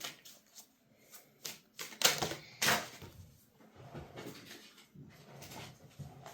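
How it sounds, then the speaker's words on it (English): Tarot cards are shuffled by hand in a string of soft, irregular riffling clicks and slaps, close and fairly quiet, with a couple of sharper bursts. "Stop shuffling and get a card out."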